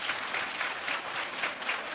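Dense applause from an audience at a Hindu religious discourse on Hanuman, a steady wash of many hands clapping close by that holds for the whole stretch with no voices above it.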